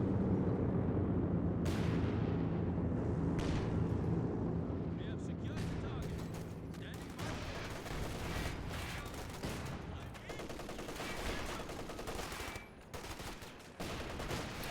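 A Scott self-propelled artillery barrage in Company of Heroes 2 pounds away in continuous rumbling booms and crackling explosions, layered with other battle gunfire under steady commentator talk.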